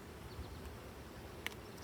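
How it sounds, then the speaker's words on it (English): Honey bees drone softly from the bottom of a freshly opened hive box above a slatted rack, a low continuous hum with one brief click near the end. "There's quite a bit of bees down the bottom."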